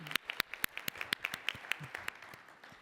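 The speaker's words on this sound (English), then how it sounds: "let's maybe give a round of applause to Annette Clark" A small audience at an AFA business meeting and awards presentation gives a brief round of applause: a thin scatter of separate handclaps, fairly quiet and a little distant, with no talking over it.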